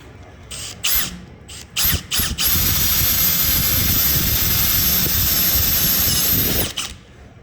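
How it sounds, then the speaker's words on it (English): A power drill with a step bit whines steadily into metal for several seconds after a few short starting bursts, loud and close, with a high grinding tone. "now we're just gonna run the step drill"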